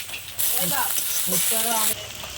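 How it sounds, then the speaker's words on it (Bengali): Fish, onion and ginger-garlic paste hit hot oil in a kadai, a loud broadband sizzle bursting up and holding steady for about a second and a half, with a voice talking underneath. "তেলের মধ্যে ভেজে নেবো চচ্চড়ি মাছ, পেঁয়াজ, আদা রসুন বাটা"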